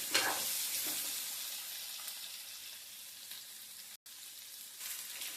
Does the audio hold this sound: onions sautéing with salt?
yes